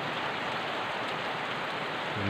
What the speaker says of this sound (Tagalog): Kasi, lakas ng ulan.